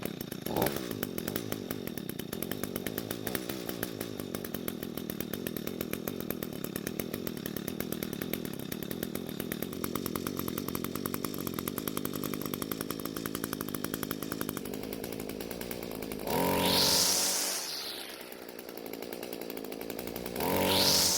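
A used Echo string trimmer runs after starting, a loud, buzzy two-stroke engine whine held steady close to the microphone, with a brief rev change near the end.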